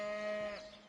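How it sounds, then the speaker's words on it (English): A cow moos in the video game Divinity: Original Sin, one short, tonal call that sounds alone and fades quickly. "Man, the cows are really loud in this game"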